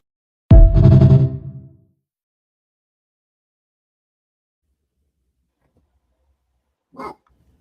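A dog barks in one loud, close burst of several quick barks that tails off, followed by a long stretch of near silence and then a brief faint sound.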